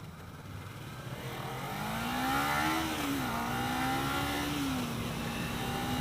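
A 2015 Kawasaki Ninja 300 motorcycle runs at full throttle on a group ride, its engine note climbing in pitch then holding a steady, loud whine with slight wavering, heard continuously from the rider's position.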